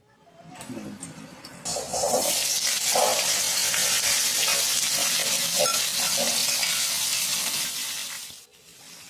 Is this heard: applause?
no